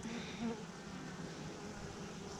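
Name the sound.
bees buzzing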